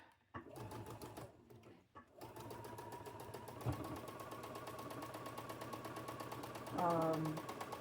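A sewing machine stitches down the folded corners of quilt blocks, its needle running in a steady rapid chatter for several seconds with a brief pause near the start and a louder burst toward the end.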